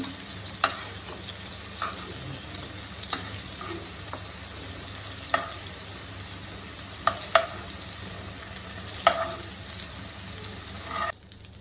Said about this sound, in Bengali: চিংড়িগুলো কিন্তু বেশিক্ষণ ভাজবো না কারণ বেশি ভাজলে চিংড়ি শক্ত হয়ে যায়